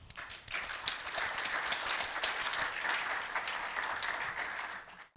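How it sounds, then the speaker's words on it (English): An audience breaks into warm applause to greet a performer at a pansori storytelling-through-song demonstration. Dense, steady clapping builds quickly and holds for several seconds before tapering off, with no voices over it. "Ladies and gentlemen, please greet her with a warm round of applause"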